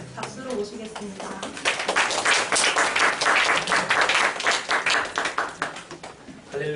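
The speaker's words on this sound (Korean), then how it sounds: "박수로 모시겠습니다" A church congregation claps to welcome the pastor to a sermon, the applause swelling from sparse claps into a loud, dense wave, then thinning into scattered individual claps near the end.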